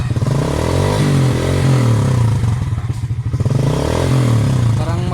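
A motorcycle revived after sitting unused for months with a flat tire, its engine revving up and down in loud, close, steady bursts with a strong low rumble.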